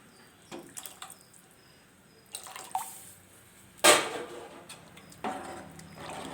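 Water being poured into a pot of okra curry, heard as scattered close drips and small splashes with one louder splash partway through and quiet gaps between them, with no talking.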